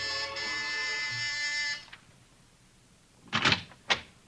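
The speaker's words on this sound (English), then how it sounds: "you've got your finger on the buzzer" Door buzzer in a radio drama, a sustained harsh electric buzz lasting under two seconds, followed by quiet and then two short thuds like a door being handled.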